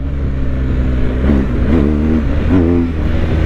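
A BMW GS 1250 motorcycle engine revs hard while the rider lifts the front wheel, a loud, steady rumbling drone with two brief rising surges of throttle, heard close up with wind noise.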